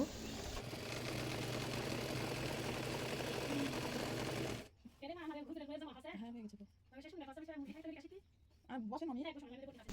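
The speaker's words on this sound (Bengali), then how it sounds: "এরপর ডাবল আরও একটি সেলাই করে নেব" A sewing machine stitches a round petticoat with a steady, even whirring for about four seconds, then stops while a voice talks in the quiet that follows.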